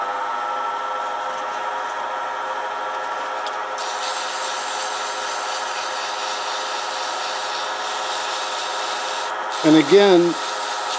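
A steady rubbing hiss as 400 grit sandpaper works an orange circuit board pen blank spinning on a lathe at about 1,000 RPM, continuous and even, with a brief voice near the end.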